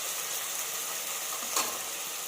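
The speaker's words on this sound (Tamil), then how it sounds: "இப்போ வெங்காயம் நல்லா வதங்கணும்." Onions, green chillies and masala sautéing in a pan for a home-made chana dum biryani: steady close sizzling and frying with a brief scrape of stirring, no talking.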